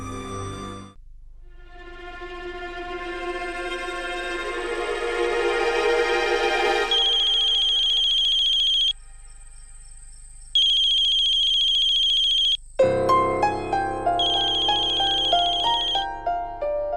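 A phone ringtone plays loudly on its own, a rising synth swell followed by repeated electronic beeps and chiming tones.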